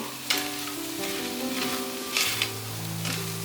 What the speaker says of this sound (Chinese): 放完调味料后，就一直不断的翻炒